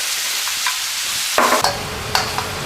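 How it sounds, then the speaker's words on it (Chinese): Pork belly stir-frying in a wok with star anise to render its fat: a bright, hissing sizzle up close, with a few sharp spatula scrapes and clinks partway through. "好，这肉啊煸了一会儿了，"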